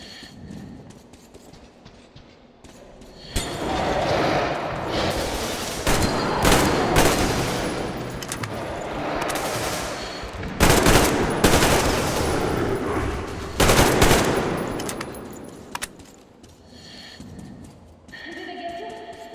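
Gunfire in the video game Metro Exodus: loud, dense bursts of shots and rattling fire run for several seconds among other game noises, with voices talking over parts of it.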